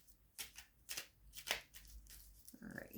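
Tarot cards being shuffled by hand in a series of quick riffling bursts, soft and close, with a faint voice murmuring in the background.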